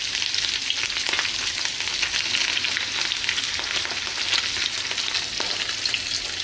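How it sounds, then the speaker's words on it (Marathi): Chivni fish coated in rava fry in hot oil in a pan, giving a loud, steady sizzle and crackle close up with no voices. "मस्त तडतडते बघा"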